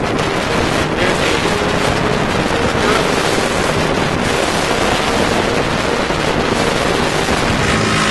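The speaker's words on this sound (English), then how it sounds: "Clark is a really windy street as it is." Strong wind roars steadily along Clark Street in Chicago during a 2011 blizzard, a loud continuous broadband rush with gusty buffeting on the microphone and no clear speech.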